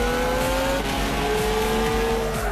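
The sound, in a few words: car braking hard in Gran Turismo 6 video game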